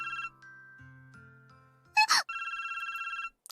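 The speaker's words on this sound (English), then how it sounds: "Phone suddenly rings." A phone in the Re:Sabbat of the Witch visual novel rings with a steady electronic trill, pausing while a brief sharp sound effect cuts in, then resuming clearly for another sustained burst, with no talking.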